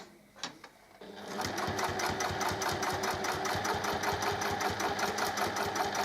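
A sewing machine top-stitching around a fabric pouch with a snap fastening starts after a brief fumble and then runs at a steady, rapid stitching rhythm, loud and close.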